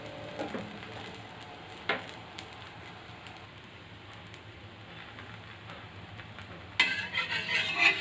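A paruppu poli, a lentil-stuffed flatbread, lands on a hot dosa griddle with the stove on low. After a quiet stretch with a few light clinks, a soft sizzle starts abruptly near the end and continues.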